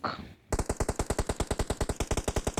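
Rapid automatic gunfire from a video game shooter, after a brief quiet moment: a steady, evenly spaced burst of loud shots, close up, continuing alone without talk.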